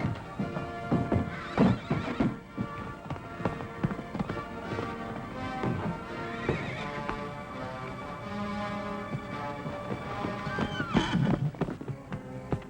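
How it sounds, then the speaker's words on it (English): A white mare whinnies and neighs while hooves clop in an uneven, busy rhythm, fairly close, with other sounds mixed in behind. "The white mare is loose!"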